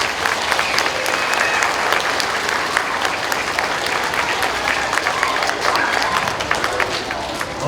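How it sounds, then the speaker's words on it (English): A school audience claps loudly and steadily in a packed room, with dense continuous applause and some crowd voices mixed in. "So as a Riddle family, let's give them a round of applause."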